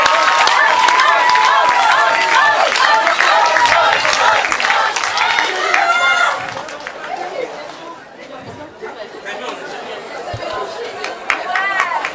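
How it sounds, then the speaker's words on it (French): Audience applause at a cosplay contest during a French convention, a loud crowd clapping and cheering for several seconds before fading into chatter and scattered claps. "On applaudit bien fort, s'il vous plaît."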